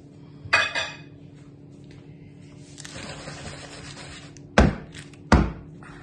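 Dishes and utensils being cleared away in a kitchen after chocolate fondant cake batter is poured: a few loud, close clinks and thunks of crockery and cutlery, with brief pauses between.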